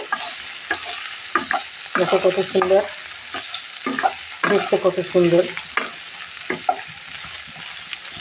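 Oil sizzles and crackles steadily as cauliflower fries in a pan, with stirring clatter; someone talks over it throughout.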